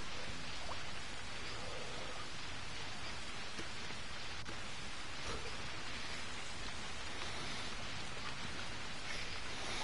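Steady rain hisses continuously in the survival video game Hell Survivorz, an even wash of falling water with no speech over it.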